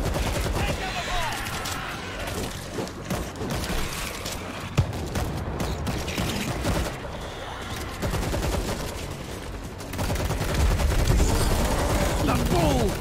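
Dense, rapid automatic gunfire in the World War Z game, a near-continuous clatter of shots layered with booms and action noise, loud throughout with some speech mixed in.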